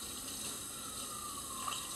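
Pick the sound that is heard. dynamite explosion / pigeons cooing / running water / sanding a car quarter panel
running water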